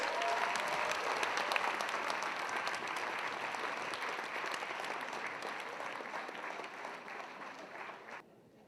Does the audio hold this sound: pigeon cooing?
no